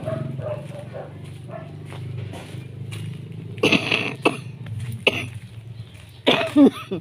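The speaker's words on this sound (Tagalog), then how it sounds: "inuubo-ubo pa talaga ako." A person coughs a few times in short harsh bursts, close to the microphone, over a low background hum and faint voices, while walking around a neighborhood.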